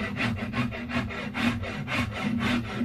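A knife shaves down the belly of a yew bowstave in rhythmic strokes, each a close, dry scraping rasp of about half a second, repeated at a steady pace.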